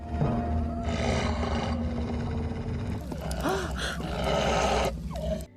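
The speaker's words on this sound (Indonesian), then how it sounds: "tiba-tiba mereka diserang oleh seekor serigala yang muncul dari kegelapan" A wolf attacks at night beside a quiet roadside, heard as snarling roars and growls layered over a dense, dramatic background, with several loud surging bursts.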